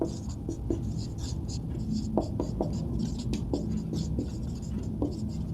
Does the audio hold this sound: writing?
yes